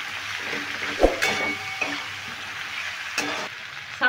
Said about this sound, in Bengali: এবার সমস্ত মশলাগুলো আমি নেড়ে নিচ্ছি, সব কিছুর সঙ্গে মিশিয়ে ভালো করে কষিয়ে নেব।